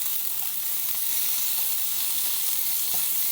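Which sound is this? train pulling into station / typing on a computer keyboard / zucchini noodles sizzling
zucchini noodles sizzling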